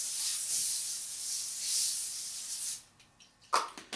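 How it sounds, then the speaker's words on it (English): Fat-free cooking spray hisses steadily for nearly three seconds onto a foil-lined baking pan before preparing chicken, followed by a few soft clicks and rustles. "and then just take some fat-free cooking spray"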